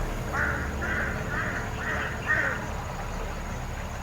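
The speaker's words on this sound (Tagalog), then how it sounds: "Napakatapang ng uwak." A series of five harsh, evenly spaced caws from a crow, moderately distant, over a steady background hum.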